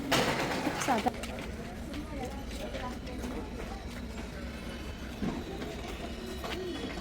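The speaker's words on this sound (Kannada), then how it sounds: "ರೈಲ್ವೆ ಸ್ಟೇಷನಲ್ಲಿದ್ದೀವಿ" Busy railway station ambience with a train's rumble and clatter, people talking nearby and a few sharp knocks.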